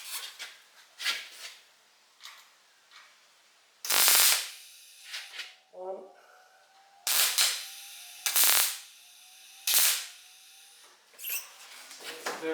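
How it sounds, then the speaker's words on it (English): Light tack welds on the drip rail of a 1966 Mustang A-pillar, sounding as a series of sharp, crackling bursts of about a second each, several in irregular succession with quiet gaps between them, close and fairly loud. "Very light tack weld there, but very strong."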